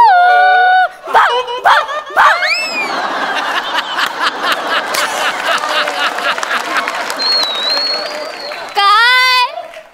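A man vocally imitates a startled dog barking, a series of sharp yelps and bark-like cries at a comedy show, followed by laughter and applause from a live audience.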